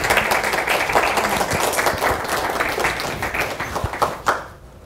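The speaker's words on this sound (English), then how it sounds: "Can we give them a round of applause?" An audience at a health equity summit gives a round of applause, a steady crowd clapping that carries on for several seconds before tapering off abruptly.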